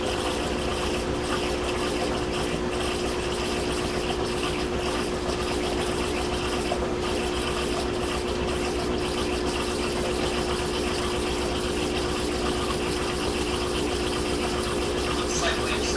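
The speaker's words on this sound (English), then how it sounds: "I'm watching the impeller to see the spin speed increase." A washing machine on its delicate cycle spins its impeller up to speed, giving a steady, continuous mechanical hum and whir with a low droning tone that holds evenly throughout.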